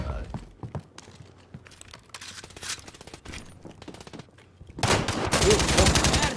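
Automatic gunfire and bursts of shots in Call of Duty Warzone, a Modern Warfare battle royale match, with a player talking over the gunfire and a loud, dense burst of fire near the end.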